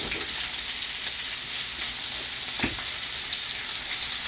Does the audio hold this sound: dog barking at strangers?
no